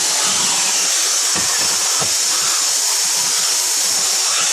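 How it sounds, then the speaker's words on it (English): A vacuum cleaner sucks dust off a spray booth panel, a loud, steady, close hissing rush of air that holds without a break. "it does help if I get this cleaner thing at the right angle. You can see it's sucking up a lot better"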